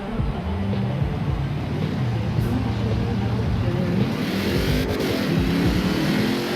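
A rear-wheel-drive V8 drag car in Forza Horizon 4 launches with a deep, droning engine roar that climbs steadily in pitch as it accelerates, loud and continuous, with a voice talking over it.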